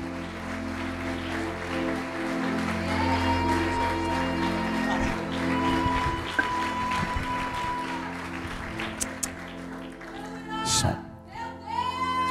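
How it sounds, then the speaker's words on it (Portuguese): A church congregation claps loudly during an evening worship service, the steady applause blending with sustained keyboard or organ chords and a few brief louder peaks near the end. "Aplauda o Senhor bem forte."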